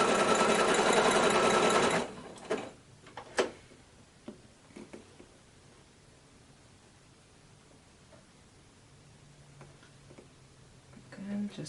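A hand-crank sewing machine sewing on a button runs steadily and close for about two seconds, then stops, leaving a few soft clicks and rustles in a quiet room.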